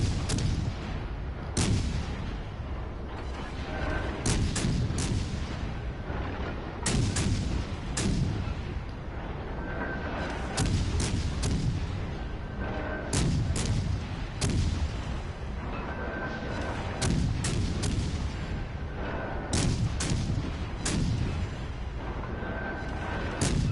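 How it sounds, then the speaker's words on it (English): Gunfire in a PS4 video game crackles in a steady sequence of sharp, loud reports, arriving in irregular clusters with brief gaps, over a constant rumbling backdrop. "Oh, they're shooting at somebody else."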